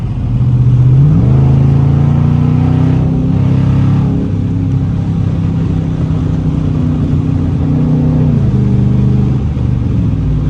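A Dodge Charger R/T in sport mode accelerates hard, its engine note a loud, steady roar that climbs, holds, and shifts pitch as it pulls through gears, heard from inside the car over about ten seconds.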